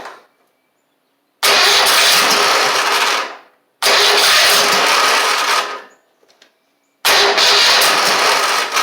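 A Toro Z2550 zero-turn mower engine cranks and fires three times in loud, close bursts of a few seconds each, with short silences between the starts and no talking.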